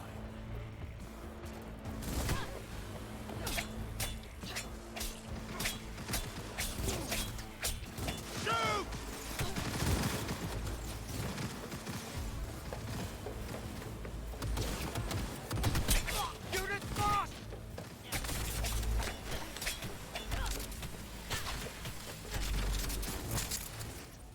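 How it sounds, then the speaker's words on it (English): Pistol shots in the video game Cyberpunk, sharp cracks scattered over steady game sound with mechanical clicks and clatter, and a voice talking at points throughout. "Well, we'll have to use our pistol, I guess."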